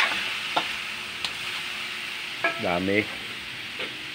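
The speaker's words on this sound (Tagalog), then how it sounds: "Tapos, ibinisa na." Boiled duck sautéing in a pan gives a steady, close sizzle with occasional clicks of stirring, while a voice speaks briefly over it.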